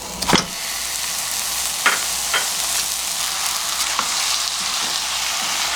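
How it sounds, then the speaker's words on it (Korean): Green onions sizzle and crackle steadily in a hot pan as they are stir-fried, with a few scraping stirs and clacks of a utensil against the pan. "이렇게 먼저 좀 볶아주겠습니다."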